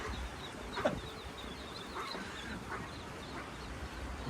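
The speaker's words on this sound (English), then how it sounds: "You can hear the ducks in the background." Ducks quack faintly in the distance, a few scattered calls over a quiet outdoor background.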